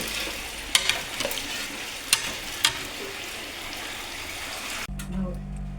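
Running water for cleaning at a dairy plant gives a steady, close hiss with a few sharp clinks and knocks. It cuts off abruptly near the end to a quieter low hum.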